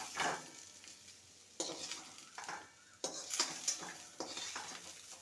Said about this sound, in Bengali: এবার ঝিঙেগুলো ভেজে নেব। ভালো করে নেড়ে নেব।